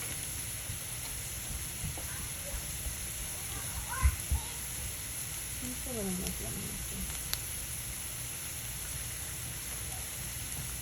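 Eggs sautéing in a cast iron skillet for a breakfast omelette, a faint steady sizzle with occasional stirring scrapes, and quiet voices in the background.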